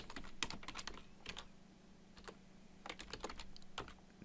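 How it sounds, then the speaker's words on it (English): Computer keyboard being typed on while building an HTML table, with irregular bursts of light key clicks, some closer and sharper, over a faint steady hum and no speech. "if I hit the end key on my keyboard, that takes me to the end of the line"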